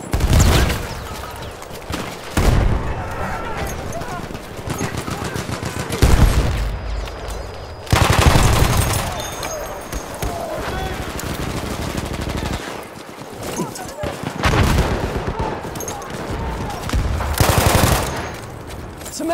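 Sustained automatic machine gun fire and scattered gunshots in a Battlefield 1 Conquest battle, loud and dense in repeated bursts with brief lulls, mixed with battlefield booms.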